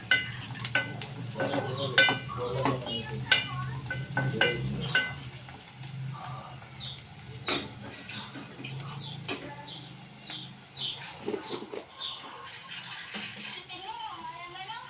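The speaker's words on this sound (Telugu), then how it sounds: "ఉల్లిగడ్డలు మనకు వేగినాయి మంచిగా" Sliced onions fry in a pan for a raw prawn and tomato curry, giving a steady low sizzle broken by frequent sharp scrapes and clinks of stirring across the whole stretch.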